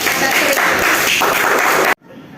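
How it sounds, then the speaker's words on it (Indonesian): A classroom audience applauds for a student group during a 9th-grade science practical exam, dense steady clapping lasting about two seconds before stopping abruptly into quiet room tone. "Beri tepuk tangan untuk kelompok 1."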